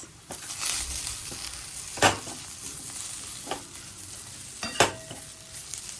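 Red chilli and coriander powder are stirred and fried in a pan for an Indian dish, with a continuous sizzle broken by several sharp scraping strokes of the spoon against the pan, fairly close and without talk.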